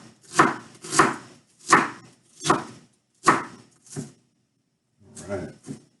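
A knife chops half an onion on a cutting board, with six sharp, evenly spaced thuds against the wood, a short pause, then a few softer cuts, close and clear.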